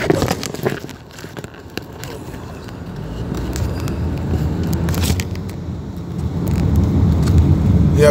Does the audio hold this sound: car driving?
yes